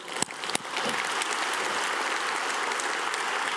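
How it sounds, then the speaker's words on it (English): A breakfast event audience applauds Boeing, starting with a couple of sharp isolated claps that quickly swell into steady, even applause filling the room. "big round of applause for Boeing"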